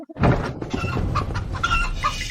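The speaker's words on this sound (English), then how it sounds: "She grabbed His Highness's proxy rooster." Rooster clucking in a series of short, close, throaty clucks and squawks in an uneven rhythm, loud and alone.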